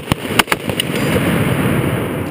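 Several sharp reports from a pov M2 .50 caliber machine gun fire in quick succession at the start, then give way to a steady, loud rumbling wash; no talk.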